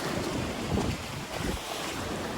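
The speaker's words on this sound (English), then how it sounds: "I just hear the nature sounds of the waves and the birds." Ocean waves wash in, a broad, continuous roar of surf mixed with heavy wind buffeting the microphone, loud and close with gentle swells in intensity.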